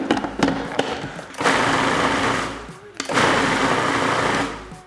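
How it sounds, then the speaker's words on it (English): Food processor pulsing cranberries for a pie filling, several loud whirring bursts with brief stops between them, the motor surging and cutting off in a start-stop rhythm. "Let's blend this sucker up."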